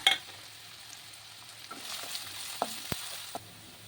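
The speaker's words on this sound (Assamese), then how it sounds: "আৰু তেল অলপ দি কিনি পিঁয়াজখিনি ধুনীয়াকৈ ভাজি ল'ম।" Chopped onions fry in a little oil in a pan, a steady soft sizzle running throughout with a few brief stirring scrapes and clicks.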